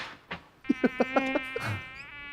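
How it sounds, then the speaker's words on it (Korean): A thin, whining insect buzz like a mosquito, rising into a string of short, pulsing whines that hover close by and then trail off, with no talk over it. "모기."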